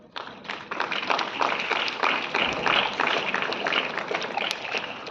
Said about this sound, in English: Please welcome her with a big round of applause.